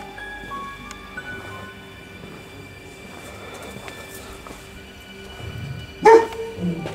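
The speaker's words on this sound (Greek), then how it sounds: "Άκου το σκυλί." A dog barks somewhere outside, a couple of sharp yaps near the end standing out over a quiet, humming background with faint distant noise.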